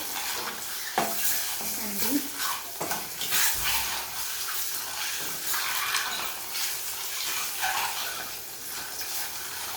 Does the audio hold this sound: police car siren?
no